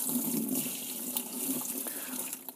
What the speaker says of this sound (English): So we're just going to pop a little bit of water in here.